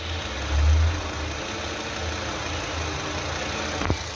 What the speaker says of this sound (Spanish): Aquí está el motor encendido